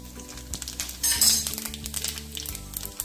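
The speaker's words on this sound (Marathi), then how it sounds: "जिरे, मोहरी, धने, बडीशेप घेतलेलं आहे फोडणीसाठी।" Cumin, mustard, coriander and fennel seeds crackle and sizzle in hot oil for tempering, a close, busy hiss with light pops and a few metallic clinks of pan and spoon.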